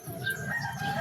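A pet rooster crows once close up, a short, loud, strained call lasting about a second, with no talking over it.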